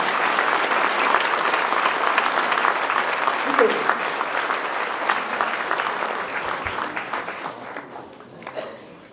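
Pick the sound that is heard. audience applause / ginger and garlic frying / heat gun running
audience applause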